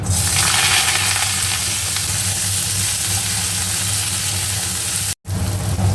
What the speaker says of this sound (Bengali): অল্প একটু সর্ষের তেল দিয়ে তার মধ্যে কালো জিরে ফোড়ন দিয়ে এই কেটে রাখা উচ্ছেগুলো দিয়ে দেবো